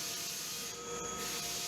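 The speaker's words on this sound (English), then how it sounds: "Sanding the floor at an angle is more aggressive and removes material faster." Steady, gritty rasping of a sander working at an angle across a water-damaged oak floor, continuous and close, with no voices.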